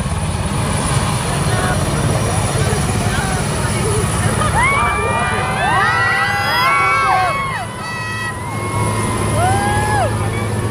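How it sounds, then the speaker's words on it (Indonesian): A loud, steady roar from a helicopter taking off fills the scene while a crowd in Timor Tengah Utara, Indonesia, seeing off the president shouts and cheers nearby, voices rising over the rotor noise. "helikopter yang akan segera lepas landas"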